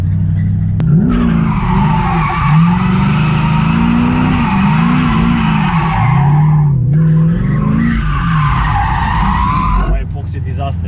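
Drift car sliding a wide figure eight between two tyres on an old abandoned runway, with a loud continuous tyre screech, a rising and falling engine drone beneath, and a short break at the transition, with people talking over it.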